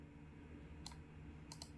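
Keys tapped on a computer keyboard while HTML is entered, a few sharp, isolated clicks over a low, steady background hum, close by and fairly quiet.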